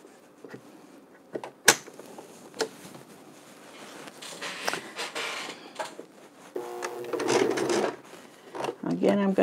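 A sewing machine stitching wool sweater pieces into mittens, short bursts of whirring stitching with pauses and clicks, and a person talking nearby.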